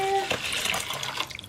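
Water runs steadily into a bathtub as it fills for bath time, a continuous rushing splash heard close up, with a brief tonal chime at the start.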